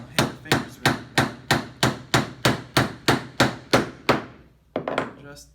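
A hammer drives nails into wooden boards for a planter box: about eleven sharp, evenly spaced blows, close and loud, then a short pause and a quicker pair of softer taps.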